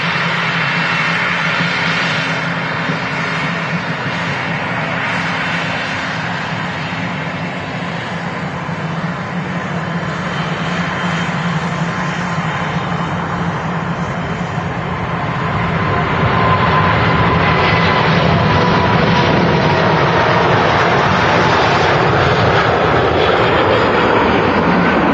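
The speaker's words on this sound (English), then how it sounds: "Of engine fluff there on the King of the Skies as it departs Manchester Airport" An Airbus A380 taking off from Manchester Airport, a loud, sustained engine roar that holds steady, then swells further as the jet departs, with no talk over it.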